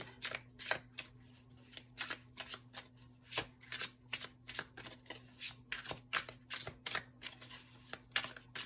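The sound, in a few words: shuffling a deck of tarot cards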